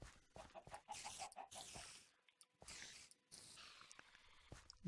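Chickens in the Minecraft video game give a quick run of soft, rhythmic clucks amid busy game noise, with footsteps and scattered clicks and thumps around them.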